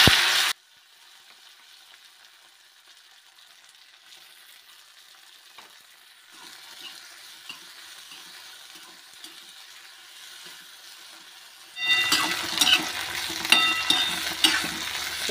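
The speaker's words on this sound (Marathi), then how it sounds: "कढईमधलं तेल छानपैकी गरम झालं आहे। यामध्ये आता आपण ही गवार टाकून घेऊया।" Cluster beans (guar) hit hot oil in a kadhai, quiet at first, then a loud, bright crackling sizzle bursts out near the end.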